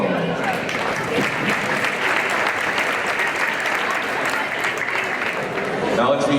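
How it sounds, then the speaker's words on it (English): A gym crowd at a boys' high school basketball game breaking into sustained loud applause, dense clapping and cheering held at full strength throughout, with voices mixed in. "let's hear a big round of applause for him"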